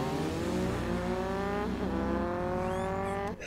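Motorbike engines in an episode of The Legend of Korra, a steady loud roar with rising and shifting whine as the bikes race, under a busy soundtrack.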